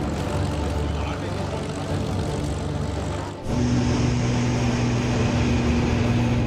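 Spitfire aircraft flying aerobatics, a sustained propeller engine drone with a brief dip near the midpoint before the engine note returns steadier and stronger, fairly loud throughout.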